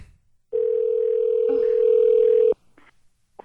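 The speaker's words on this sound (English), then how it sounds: "We're calling him right back." A phone call being placed and ringing out: one steady electronic ring tone lasting about two seconds, loud and close, then brief faint sounds.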